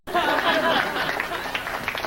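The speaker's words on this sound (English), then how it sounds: "Oh, applaud." An audience at a magician's show breaks into sudden applause that starts abruptly and carries on steadily, mixed with light chatter and a few chuckles.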